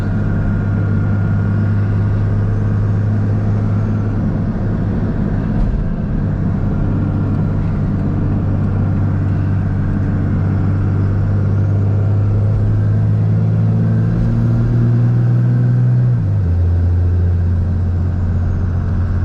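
A diesel truck engine fitted with a Mishimoto intercooler and 125hp DDP injectors rumbles loudly and continuously from inside the cab while driving, with a low drone that drops in pitch near the end as it shifts.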